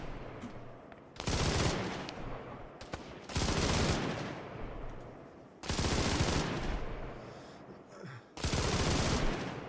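Gunfire in the video game Arma on the island of Sahrani: four loud bursts of rapid automatic fire, each lasting about a second, spaced a couple of seconds apart, with quieter echoing shots between them.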